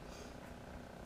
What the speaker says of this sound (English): that annoying brrrr in the background, just so you know, my fan for my laptop is dying